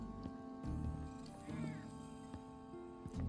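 A cat meows in Final Fantasy VII Remake, one short call rising briefly over a steady game soundtrack and ambient hum, with a few soft thumps scattered around it.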